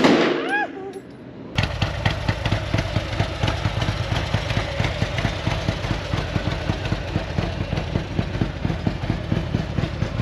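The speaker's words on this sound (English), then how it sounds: "so I am in a shooting range for the first time ever" Rapid gunfire at a shooting range, a dense train of sharp cracks after a short quiet start with a voice, continuing loud and steady.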